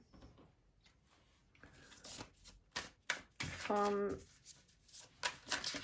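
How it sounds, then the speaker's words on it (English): Oracle cards from the Wild Unknown Animal Spirit deck being handled and shuffled, soft papery riffles and rubbing with a brief fluttering burst, close and quiet, with a voice at moments. "Let's get some oracle cards out as well for you."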